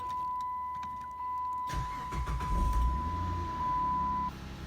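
A 2006-2010 Chrysler 300 engine starts after a steady chime, cranking briefly and then catching into a low, rumbling idle nearby.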